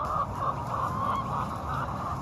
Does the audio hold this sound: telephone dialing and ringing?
no